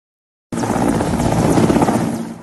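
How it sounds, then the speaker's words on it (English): A Mexican Navy Mi-17 helicopter lifting off gives a loud, steady roar of rotor and engine that starts abruptly after half a second of silence and holds at full strength. "A Mexican Navy Mi-17 had barely lifted off when it suddenly lost engine power"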